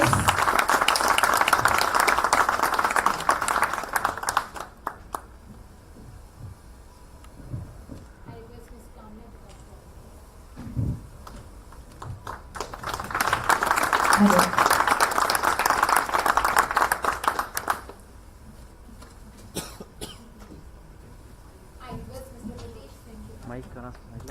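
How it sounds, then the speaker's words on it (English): An awards night audience breaks into two bursts of sustained applause, dense clapping that swells and then stops, with a spoken voice filling the quieter stretch between and after them. "please give them a huge round of applause"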